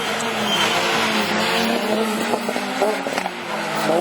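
Super 1600 rallycross cars race on a damp track at Lessay, a dense, loud blend of revving engines with rattling gear changes and crackles, continuous with no break.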